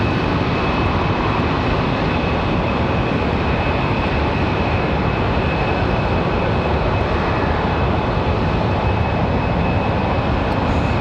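A Frontier Airlines jet airliner arriving at Raleigh-Durham International Airport roars loudly and continuously overhead, a dense, steady rush of engine noise with a faint high tone running through it.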